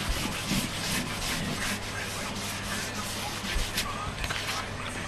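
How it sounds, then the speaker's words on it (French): Soft, uneven rubbing strokes over glossy paper, cleaning residue off decorated snowflakes on a card, a close, quiet scratchy swishing that continues without pause. "je frotte un peu dessus pour enlever ce qui est resté sur mes petits flocons pour bien les faire briller"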